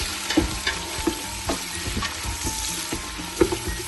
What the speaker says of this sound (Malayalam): അപ്പൊ നമ്മൾ വെജിറ്റബിളും ആ ഇഞ്ചി അരിഞ്ഞു വെച്ചേക്കുന്നതും കൂടി ഇട്ട് കൊടുക്കുവാണ്. നന്നായിട്ടൊന്ന് മിക്സ് ചെയ്ത് കൊടുക്കുന്നു.